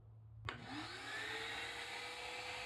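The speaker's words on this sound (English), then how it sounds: "then I just turn on the vacuum" A vacuum used to hold an upturned pottery platter by suction through a funnel switches on with a sharp click, then spins up into a steady, loud whining roar that holds to the end, with no talking.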